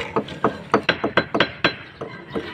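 Hammer striking hardened cement on a church wall during painting prep, about a dozen sharp clinking blows in an uneven rhythm, close and fairly loud with chips falling.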